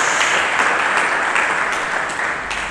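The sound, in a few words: applause for Jesus Christ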